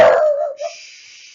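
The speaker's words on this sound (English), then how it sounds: "my dog barking." A single loud dog bark close by, a sharp burst that trails into a fainter whine or yip, with no talking.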